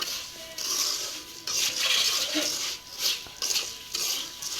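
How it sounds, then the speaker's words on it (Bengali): Puffed rice and flattened rice tossed together in a pan with a utensil, giving repeated rustling, scraping strokes and light metallic clinks at close range. "আমি এখন মুড়ি আর চিরাটা ঢেলে দেবো করার মধ্যে আমি ভালো করে এটা মিশিয়ে নিব সব একসাথে"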